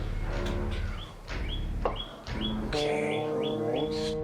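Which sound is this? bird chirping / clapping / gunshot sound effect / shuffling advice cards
bird chirping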